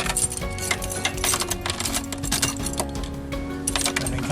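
Car keys for a 1985 Chevrolet C4 Corvette jangle and clink close by in a dense, continuous metallic rattle, with sharp chinks scattered throughout the handling.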